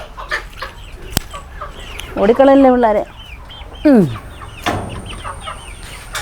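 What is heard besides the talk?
chickens clucking in a coop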